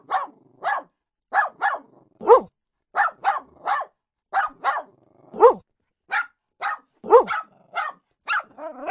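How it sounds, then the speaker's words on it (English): A dog barks repeatedly in a steady series of loud, close single barks spaced about half a second apart, with a few deeper, longer barks mixed in, and no other sound around them. "Dog."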